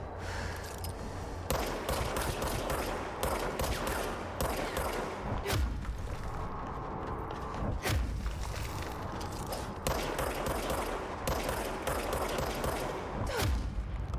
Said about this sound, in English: I'm missing all them shots.